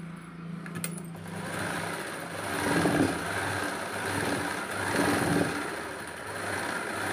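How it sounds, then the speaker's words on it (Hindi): Continuous whirring of a sewing machine stitching a belt onto a crochet-strip blouse, close and steady with slight surges in speed and no talk. "ऊपर से एक किनारे पर सिलाई लगाएंगे।"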